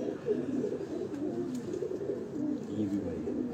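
Pigeons on a Lahore rooftop loft cooing in a steady, low murmuring chorus, close and continuous throughout, with faint background noise.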